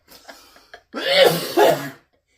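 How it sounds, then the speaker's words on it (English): A person coughs hard twice in quick succession, close and loud, after a few faint breathy sounds. "no matter what I do, I just start coughing"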